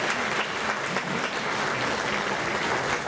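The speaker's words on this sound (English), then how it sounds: "Let's give Brandon a great round of applause for a wonderful website" At a polka Hall of Fame induction ceremony in a Sokol hall in Omaha, the crowd gives a full, sustained round of applause, loud and even, a dense wash of clapping with no voices.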